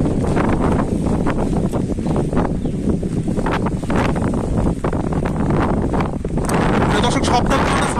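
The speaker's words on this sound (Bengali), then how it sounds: "বাতাসের শব্দ আপনারা শুনতে পাচ্ছেন।" Strong wind from Cyclone Remal over jute fields in Pabna, Bangladesh, in the rain, roaring and buffeting the microphone in a loud, continuous rush with gusty surges.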